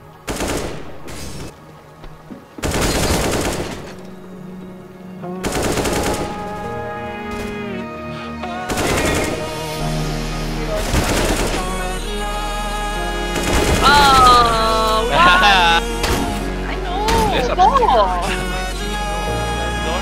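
Loud bursts of rapid gunfire crackle through a video game shootout, shots coming in clusters with short gaps, while players talk and shout over the action.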